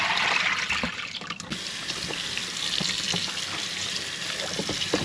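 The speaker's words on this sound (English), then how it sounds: "Just going to drain off this water." Soaking water drains off baby back ribs in a sink, a steady rushing and trickling flow with faint splashes, close and continuous without speech.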